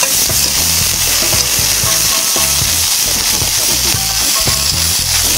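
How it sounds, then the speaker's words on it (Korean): Ingredients for jjamppong rice sizzling and crackling in a hot wok over high heat, a steady dense frying hiss with clatters of stirring, close and loud throughout. "센 불에다가 이렇게 볶는 게 포인트고요"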